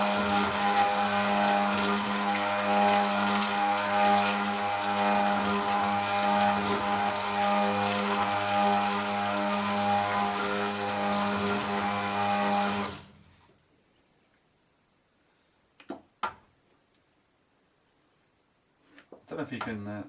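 A stick blender whirs loudly and steadily as it stirs a soap mixture in a saucepan, a high mechanical buzz for about thirteen seconds before cutting off abruptly, followed by near silence with a few faint knocks.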